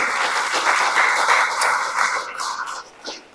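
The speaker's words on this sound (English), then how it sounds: "let's give Lester a round of applause as well" An audience claps in a warm, continuous round of applause at an exhibit opening, gradually thinning out toward the end.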